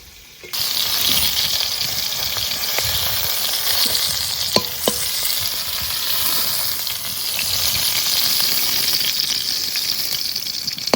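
Pieces of pointed gourd (potol) fry in hot oil, a continuous close sizzle with occasional clinks and scrapes of stirring throughout.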